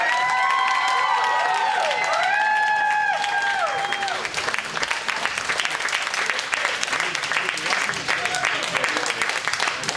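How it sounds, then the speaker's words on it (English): At a live geek-versus-nerd debate show, an audience bursts into loud, sustained applause mixed with cheers and shouts, a dense crowd sound under a voice at the start. "Let's have a big round of applause for both debaters."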